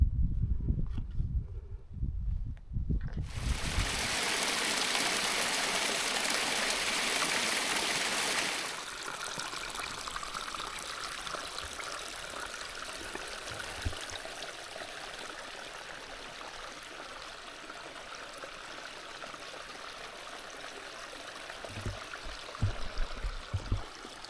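A Highland mountain stream runs steadily, with a louder rushing burst early on, then a continuous soft trickle and babble of water close by.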